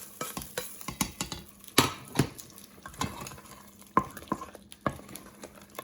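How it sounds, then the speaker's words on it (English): Fried ginger and chili being stirred into a pan of saag, with irregular clinks and scrapes of a spoon against the pot over a soft sizzle, close and steady with no voices. "I'm just going to add it in the saag now"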